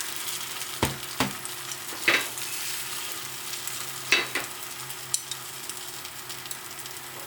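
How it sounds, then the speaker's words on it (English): Egg mixture scrambled in an oiled frying pan in a Japanese home kitchen, with a steady low sizzle broken by a few sharp scrapes and taps of a utensil against the pan, no voices. "And then you basically just scramble it up."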